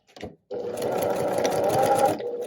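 A sewing machine stitches quilt pieces for a New York Beauty curved-piecing block, running in one steady continuous burst of rapid, close mechanical whirring after a brief start, with a short backstitch.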